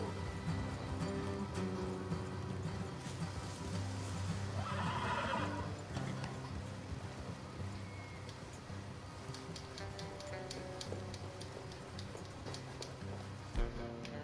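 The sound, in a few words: horse neighing in a video game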